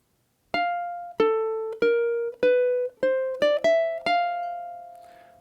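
A ukulele plays the last two measures of section A of a jazz tune: a run of about nine clean plucked notes, some in quick pairs, ending on a sustained ringing note, solo and close.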